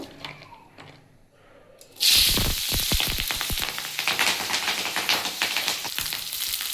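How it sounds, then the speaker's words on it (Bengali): Onion stalks dropped into hot mustard oil burst into loud, crackling sizzling and spitting after a quiet start, with sharp pops continuing over steady frying. "আমি এবার তেলের মধ্যে পেঁয়াজ কলিগুলো একটু ভেজে নেব"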